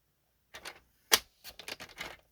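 Cardstock being cut for a scenic coast diorama card: close, crisp scraping cuts in short bursts, with one sharp, loud snap in the middle and no talking.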